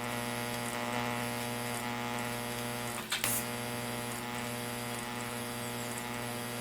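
A TIG welding arc, run through a foot-style hand control, pulses between power levels with a steady electric buzz and a constant hum, broken by one brief crackling jump in the middle.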